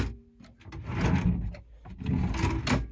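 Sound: drawer opening and closing

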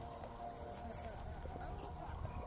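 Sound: horse hooves clip-clopping during horseback ride

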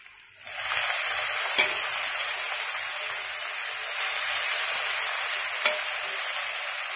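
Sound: banana stem frying in hot oil

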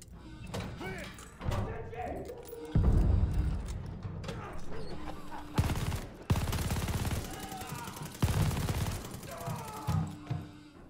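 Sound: grenade explosion and gunfire in video game Call of Duty: Vanguard

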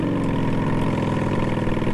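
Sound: motorcycle engine idling in an Unreal Engine 5 video game

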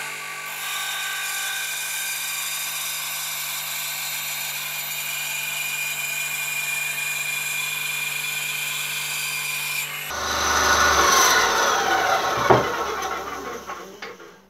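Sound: Einhell TC-SB 200/1 band saw cutting wood

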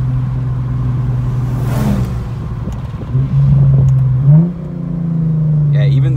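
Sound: Lexus with Apexi throttle controller accelerating, engine revving

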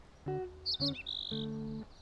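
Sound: small bird chirping

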